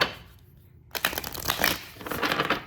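Oracle cards are shuffled close up: a quiet pause, then a rapid riffling flutter of stiff cards lasting under two seconds.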